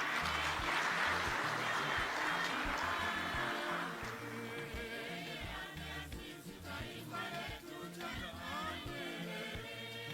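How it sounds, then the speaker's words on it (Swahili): A crowd claps at an official ceremony where public corporations hand dividends to President Samia. Dense applause fills the first few seconds, then thins and fades as tonal music rises beneath it. "Makofi."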